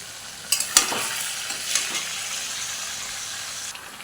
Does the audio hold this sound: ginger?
yes